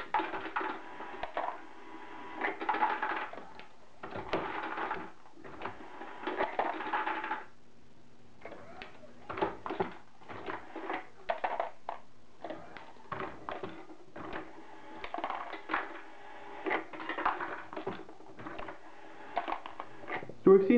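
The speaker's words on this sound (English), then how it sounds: "loading 45 ACP with the Hornady lock and load equipped with a case feeder is actually a pretty quick process" A Hornady Lock-N-Load progressive reloading press with a case feeder loads 45 ACP rounds, giving repeated bursts of metallic clanks, clicks and rattles as the lever cycles, with one short pause partway through.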